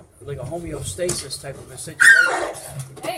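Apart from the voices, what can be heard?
dog whimpering and barking indoors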